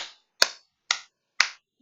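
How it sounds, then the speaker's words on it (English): Four sharp, separate hand claps come at an even, unhurried pace, loud and close, with silence between them. "I just want to clap."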